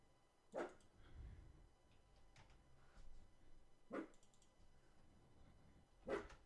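Indoor dog giving several short sharp barks spaced a second or more apart, moderately close, over a low background hum, with no one speaking.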